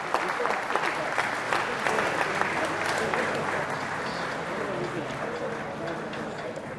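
A stadium crowd at a women's rugby final between Japan and Hong Kong applauds steadily as an injured player is stretchered off, sustained clapping that holds at an even level, with a commentator talking over it.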